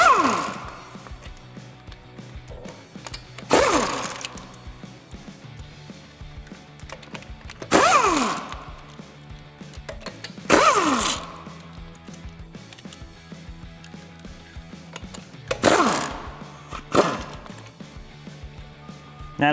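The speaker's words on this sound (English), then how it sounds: "I have an air impact gun, 21 millimeter socket. So we're going to start by taking the lugs off" Air impact gun with a 21 mm socket removing lug nuts from a 2012-2018 RAM 1500 truck wheel, several loud buzzing bursts a few seconds apart with quieter shop noise between them.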